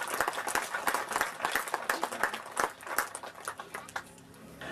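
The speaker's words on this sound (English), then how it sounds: "Round of applause for Wayne." Audience applause for angler Wayne Reed at a bream fishing tournament weigh-in on Lake Macquarie, with dense, irregular hand claps sustained throughout, fairly close and steady, a faint voice or two mixed in.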